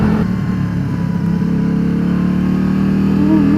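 Can-Am Spyder three-wheeler riding through twisty turns, its engine droning loud and steady with a slight swell in pitch as it pulls through the bends, with no voices.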